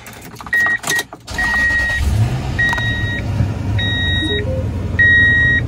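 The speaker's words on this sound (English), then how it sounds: "So you can see when I start the truck now," A Toyota Tundra pickup with a 4.7 liter V8 and high mileage starts, with chimes and warning beeps, then a short crank and a loud steady idle rumble close by.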